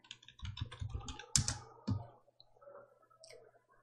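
Quick keystrokes tap on a computer keyboard in a short irregular burst, followed by a sharper, louder key press like Enter and a few softer clicks, close and quiet with no talking.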